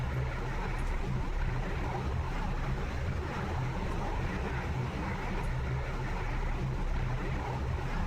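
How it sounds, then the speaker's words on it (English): A warbird's engine drones steadily in Microsoft Flight Simulator during a flight over Brazil, a dense, unbroken rumble with a constant low hum and even broadband roar throughout. "listen to those engine noises."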